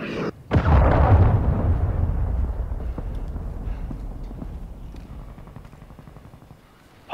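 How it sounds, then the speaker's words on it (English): A cruise missile detonates in Call of Duty MW2 multiplayer with a sudden heavy boom and a long rumbling roar that fades over several seconds, followed by a sharp new burst at the end. "Friendly cruise missile inbound."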